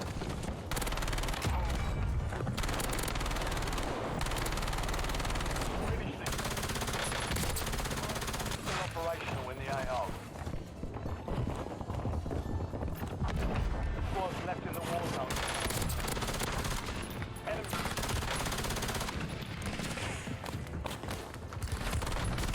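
Gunfire from an Activision shooter video game: dense, sustained bursts of automatic weapon fire with scattered thuds and impacts, loud and close throughout, with brief lulls between volleys.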